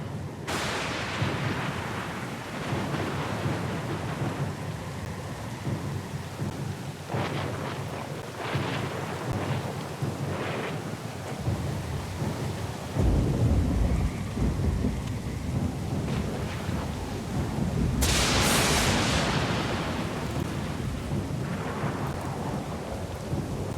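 A thunderstorm with steady rain in the Pillars of Eternity II: Deadfire video game: a continuous rain wash under rolling, rumbling thunder, with a louder crack and boom around the middle and late in the storm, and no voices.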